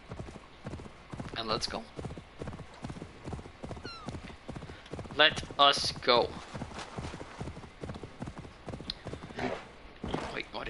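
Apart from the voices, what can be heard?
horse galloping hooves in Assassin's Creed Valhalla video game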